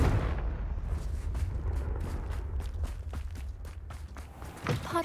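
A Confringo blast spell cast in the Hogwarts Legacy video game: a run of sharp, thudding explosive bursts over a dense low rumble, with a brighter crackling hit near the end.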